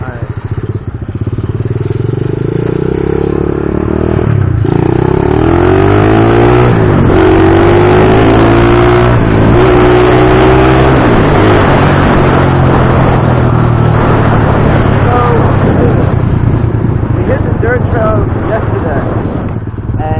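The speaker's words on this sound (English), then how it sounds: "just waiting for this traffic, man" A motorcycle idles in road traffic with a loud, steady low rumble throughout, a couple of brief revs rising in pitch, and wind buffeting over it; a rider talks over the engine.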